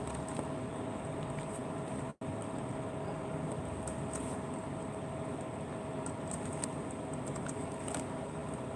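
A message is typed on a keyboard, with faint scattered key clicks under a steady broadband hum and one brief dropout in the sound.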